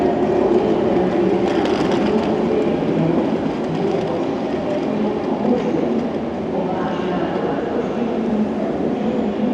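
A Czech Railways Railjet train rumbles steadily close by at a station platform, a broad continuous roar of rolling wheels that fills the whole stretch with no clear pauses.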